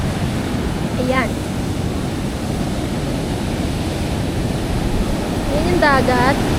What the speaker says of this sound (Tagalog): Sobrang lakas nung alon.